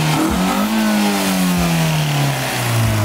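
A Toyota AE86 race car with an exhaust leak revs hard, its engine note climbing and falling through loud, rough, close sweeps, with a raspy, leaky edge over the exhaust roar.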